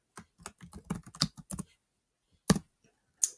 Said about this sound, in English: I'm going to type in my text area, sample page.